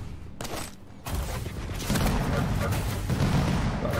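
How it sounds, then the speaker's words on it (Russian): Rapid gunfire in the arena shooter Quake, a dense, loud barrage of overlapping shots and explosive booms that swells and keeps going with no pauses. "Ох, такая стрельба"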